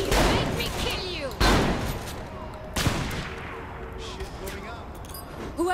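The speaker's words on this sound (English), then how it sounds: "I'm being shot." Loud gunfire fills a shootout in the video game Saints Row The Third Remastered: heavy, booming bursts of shots hit repeatedly over a dense, noisy background of combat effects.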